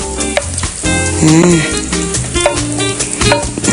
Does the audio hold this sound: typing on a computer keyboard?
no